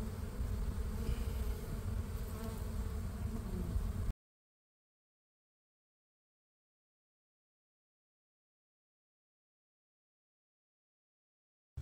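A honeybee swarm being caught hums with dense insect buzzing for about four seconds, steady and close, with no talk over it, before the sound cuts to silence.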